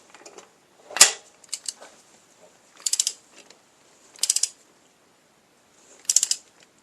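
Torque wrench tightening bolts on an SBC 350 engine: four or five short bursts of sharp ratcheting clicks, close and crisp, separated by quiet pauses.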